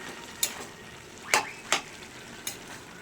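Bottle gourd, potatoes and prawns stirred in a pan: a soft, steady sizzle underneath, broken by four sharp scrapes or clinks of a spatula against the pan, close by and with no voices.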